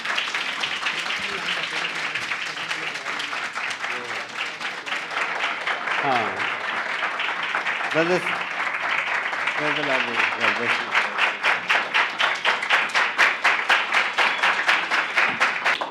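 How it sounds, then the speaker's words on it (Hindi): Audience applause fills a church hall, a dense wash of clapping that swells toward the end and settles into a steady rhythmic beat, with someone speaking over it at the start. "जोरदार तालियां बजा दें।"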